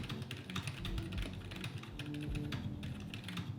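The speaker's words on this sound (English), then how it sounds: "Reasons why I got a mechanical keyboard with silent tactile switches." A mechanical keyboard with silent tactile switches, the Mode Sonnet, is typed on quickly, giving a dense run of soft, muted keystrokes up close.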